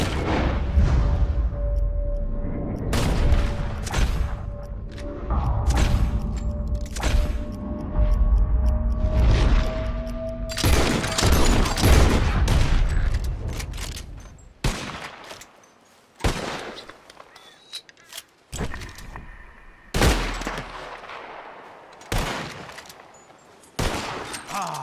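Rapid gunfire from Red Dead Redemption 2 as players shoot birds out of the sky, with loud bursts of overlapping shots in the first half, then scattered sharp single shots and gaps, a voice talking briefly amid the firing.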